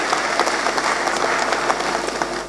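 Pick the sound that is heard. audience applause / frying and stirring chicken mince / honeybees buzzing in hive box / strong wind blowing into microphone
audience applause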